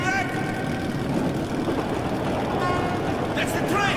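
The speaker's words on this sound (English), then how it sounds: "That's the train! We were right!" Approaching train engine in the video game Metro Last Light Redux, heard as a low, continuous rumbling drone that stays loud and steady throughout. Voices talk over it, and a few higher tonal sounds break through near the end.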